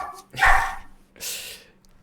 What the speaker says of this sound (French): Désolé si on entend mon chien en arrière.